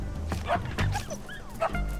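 Short, sharp barking cries from a badger in the video game Shelter, two or three yips close up over soft background game sound, with no talking.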